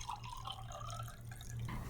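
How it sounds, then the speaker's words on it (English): Water trickles and drips steadily into small glass jars, each filled about halfway to two-thirds full to hold flowers for a wood-box arrangement; the pour is quiet and continuous over a low background hum. "I'm going to fill each of these jars about halfway to 2/3 of the way full of water"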